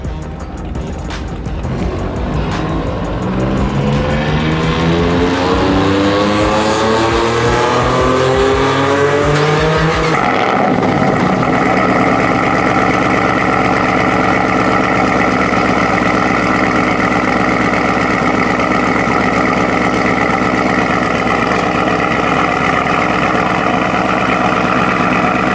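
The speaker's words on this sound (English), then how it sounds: "First cold start of 2022." A car engine cold-starts after an oil change: the starter cranks, a rising rev follows, and the engine then settles into a loud, steady idle that carries on for a long stretch, close up and with no talk.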